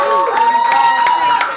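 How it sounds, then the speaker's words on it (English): An audience at a live music show cheers and applauds the performers, short and loud, with crowd shouting and a ringing tone layered over the clapping. "Can I get a round of applause to them?"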